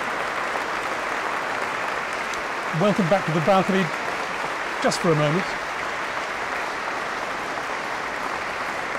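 Steady audience applause through the whole stretch at an architecture festival broadcast, a broad even wash of clapping with a voice speaking briefly over it partway through.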